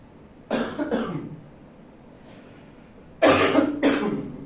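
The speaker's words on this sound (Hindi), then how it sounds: "खांसी हो गई है थोड़ी सी।" Two pairs of harsh, close coughs, each a quick double burst, with a quiet pause between the pairs.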